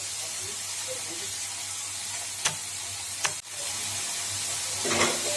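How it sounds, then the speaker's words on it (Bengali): Chopped onions sizzle in hot oil while being stirred, a steady close frying hiss with a few sharp scrapes of the spoon against the pan and a brief hotter burst near the end. "পেঁয়াজ কুচোটা তেলের মধ্যে ভালো করে নাড়িয়ে দিলাম, এটা ভাজা ভাজা হতে দিয়েছি।"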